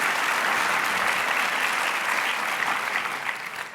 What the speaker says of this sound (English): I'm glad you clapped for that.